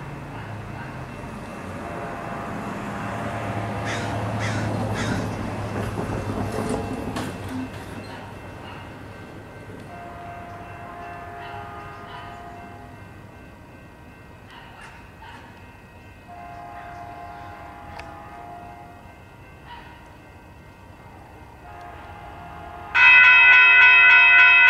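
A Caltrain commuter train rumbles past at moderate distance with steady mechanical noise and bell-like tones, ending in a loud, bright burst of ringing or horn.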